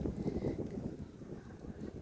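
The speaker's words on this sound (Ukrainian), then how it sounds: "Що, вітер, да?" Wind buffets the microphone in low, gusty rumbles, a close, muffled blustering that rises and falls without a break.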